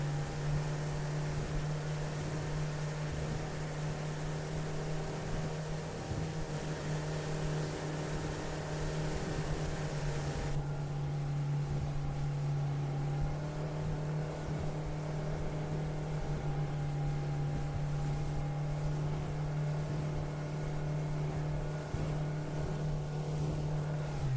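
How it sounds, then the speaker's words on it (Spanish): A tractor engine drones steadily at a lake while lowering a boat, a continuous loud mechanical hum with a strong low tone and no break over the whole stretch. "ya lo estaría bajando, ¿no? Con el tractor"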